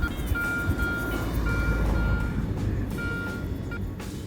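A metal detector, Quest Q20 or Garrett Ace 250, beeping over a target in a meadow, with repeated steady tones in short bursts over a loud rumbling background, no talk.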